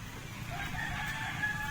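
A rooster crows once in the distance, faint and drawn out beneath a steady low background hum.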